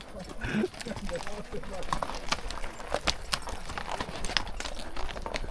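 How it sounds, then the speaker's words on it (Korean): Horse hooves clip-clop steadily on a trail ride on the way to Kaindy Lake in Kazakhstan, a rhythmic close patter of hoofbeats with people talking throughout. "카인디 호수 가는 길에 승마 체험하는 거예요"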